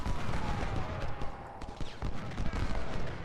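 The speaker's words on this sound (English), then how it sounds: "we should halt and get one more volley in them as they run" Infantry musket volleys in Ultimate General: Civil War at the Battle of Shiloh, a dense crackling fusillade of overlapping shots rolling on under a low voice for a few seconds.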